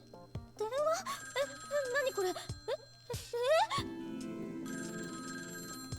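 A shrill wall-mounted telephone in Cognition: Tokyo Babel rings in repeated warbling bursts, loud and close, broken by sharp thumps and followed by a sustained tonal musical drone.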